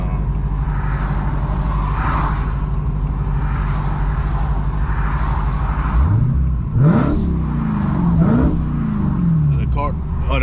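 A broken Dodge Hellcat Redeye, an 1100 hp car, idles with a steady low rumble throughout, the engine rising briefly mid-clip in short revving swells, while a person talks over it.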